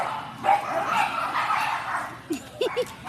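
A dog barks a few times near the end, short sharp yips over a busy indoor background with people talking, while other dog sounds are faint and scattered earlier.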